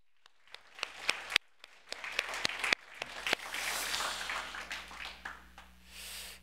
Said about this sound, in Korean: 우리 청년들 한번 격려의 박수, 영광의 박수 부탁합니다